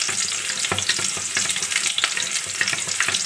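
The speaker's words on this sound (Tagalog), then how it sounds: "Lagay natin bawang." Garlic frying in a hot pan for chicken chop suey, a dense, even sizzle with crackling pops and occasional scrapes of stirring, steady and close throughout.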